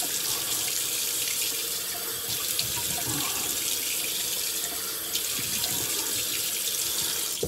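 Tap water runs steadily into a bathroom sink while the face is rinsed after a shave, a constant close hiss with faint splashing and no talk.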